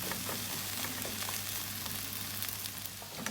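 Vegetables sautéing in a pan for a vegetable casserole, a steady dense sizzle and crackle of frying with occasional louder pops, close and continuous throughout.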